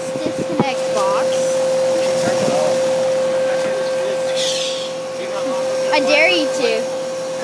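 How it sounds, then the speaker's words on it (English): A 2009 York Latitude heat pump runs in heat mode, its outdoor unit giving a steady, fairly loud whooshing hum with a constant tonal drone, while people talk nearby over it. "this thing is running in heat mode"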